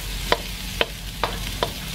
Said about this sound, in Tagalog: Sizzling hot na sa ating kawali